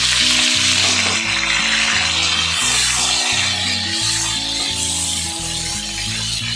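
Potato pieces with green chillies and tomato sizzle loudly in hot frying oil, a dense steady crackle running throughout, with a spoon occasionally stirring the pan.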